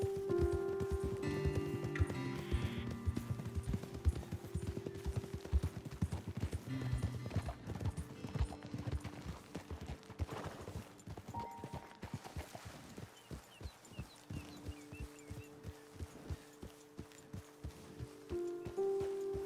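Horses' hooves clip-clop steadily as riders travel in the Red Dead Redemption 2 video game, a continuous rhythmic walking beat with occasional snorts and a faint whinny, mixed under a soft musical score and outdoor ambience.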